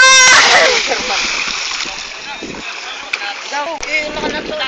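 People jump into floodwater with a big splash at the start, then water churns and laps while voices shout and talk nearby.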